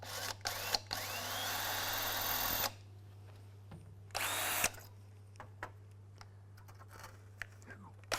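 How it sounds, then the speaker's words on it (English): A power drill whines steadily for a couple of seconds, pauses, then runs again briefly while drilling a guide hole in metal on a Ford Mustang during rust repair, with clicks and handling noise around it over a low hum. "I'm going to set it and just drill my guide hole into it."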